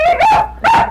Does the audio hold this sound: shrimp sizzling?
no